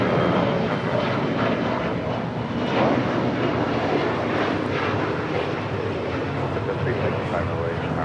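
An Embraer E175 airliner departs from Los Angeles International Airport, its jet engines a loud, steady broadband roar throughout, heard from nearby at the airport.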